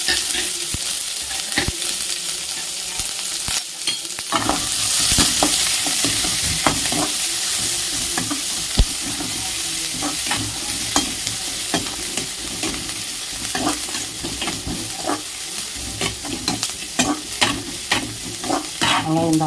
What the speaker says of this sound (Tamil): கருவேப்பிலையும் வெங்காயத்தையும் போட்டுடலாங்க.